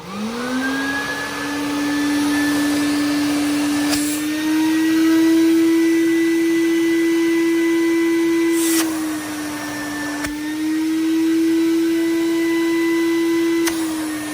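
A Quantum X upright vacuum cleaner runs continuously for a suction test, its motor giving a steady loud whine with pitch that rises and dips slightly as airflow changes, plus a few brief clunks along the way.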